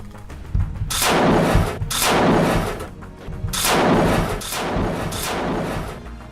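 Automatic machine gun fire aimed at a distant Israeli watchtower comes as several long, loud roaring bursts with brief gaps between them, harsh and booming with no voices.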